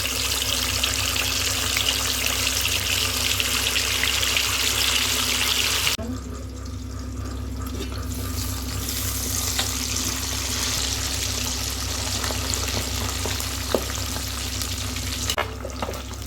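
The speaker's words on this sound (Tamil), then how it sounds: "பாருங்க எண்ணெய் காஞ்சிருச்சு. மீன் வறுத்துடலாம்." Marinated fish frying in hot oil gives a dense, steady sizzle nearby that drops somewhat quieter partway through, with occasional small pops and clinks over a low hum.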